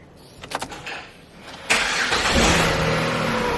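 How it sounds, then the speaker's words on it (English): A Ford Territory engine cranks briefly and fires into a steady, loud idle on a test start following a fuel pump replacement, with a few clicks before the catch and a sustained running drone after. "Now we're pretty much ready for a test start."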